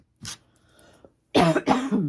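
Two coughs: a short one, then after a pause a longer double cough, close and loud.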